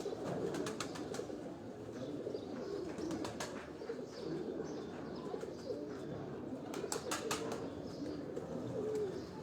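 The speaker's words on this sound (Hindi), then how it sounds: "ये सियालकोटी कबूतर कुंदा वखावेला, ये बड़ा खूबसूरत कबूतर हैं।" Sialkoti pigeons at a loft in Dhok Kala Khan, Rawalpindi, cooing softly and repeatedly with scattered chirps and a brief flutter of wings, close by and fairly quiet, with no voices.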